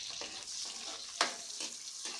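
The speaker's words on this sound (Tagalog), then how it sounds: "At ito naman po yung kanyang luya, ilalagay na natin. Bawang, sabay-sabay na ho yan. Kasama na po ang ating sibuyas." Ginger, garlic and onion fry together in a pan, a soft continuous sizzle punctuated by a few gentle stirring scrapes and one sharper clink, heard close and faint.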